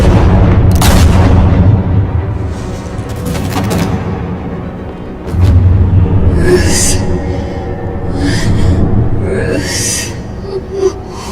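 Gunshots ring out in the Batman: The Telltale Series video game, several loud sharp cracks with booming tails spread across the clip, mixed with dramatic game sound and a few faint vocal gasps.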